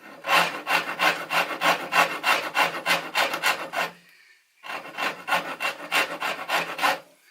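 A coarse rasp files a yew wood bow in steady back-and-forth strokes, close and loud and gritty. The strokes pause briefly partway through, then carry on at the same even rhythm.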